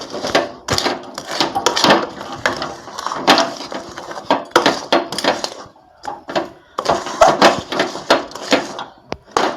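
Kaun rice being stirred and mixed with jaggery in a pan, a loud close series of scraping and knocking strokes in an irregular rhythm, with a short lull partway through.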